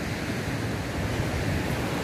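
Sea waves washing onto a rocky beach in Ghana make a steady broadband roar, close and continuous, with no voices over it.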